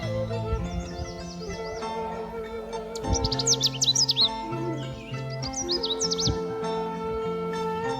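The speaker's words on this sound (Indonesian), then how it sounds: "banyak kicau burung, suara ayam ya." Birds chirp and twitter in quick bursts in an Indonesian village, over a steady hum of mechanical drone and low rumbling background noise.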